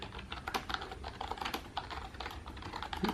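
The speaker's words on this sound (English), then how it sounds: "but like regular typing" Steady regular typing on a Redragon K503 RGB keyboard, a rapid, close run of light keystrokes with no pauses and no voice.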